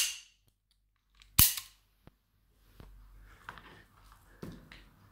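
A Colt 1911 CO2 4.5 mm blowback air pistol fires one sharp, loud crack close up, followed by faint clicks and mechanical handling noises in a quiet room.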